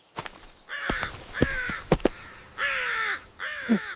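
A crow caws a few times, close and clear, with harsh separate calls broken by brief pauses and a few knocking sounds.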